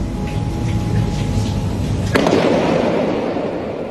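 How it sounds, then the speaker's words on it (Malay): Firecrackers thrown from an upper-floor flat in a Cyberjaya apartment block explode outdoors at night, a continuous crackling barrage with one sharp loud burst midway, echoing off buildings amid a busy background wash. "kejadian baling mercun dari kediaman tingkat atas pula dikesan berlaku di Cyberjaya"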